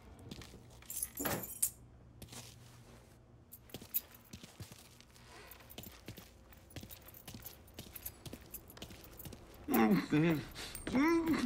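Keys jangle briefly and metallically in a Mafia III game scene, mixed among game ambience, footsteps and other incidental sounds, with a voice talking near the end.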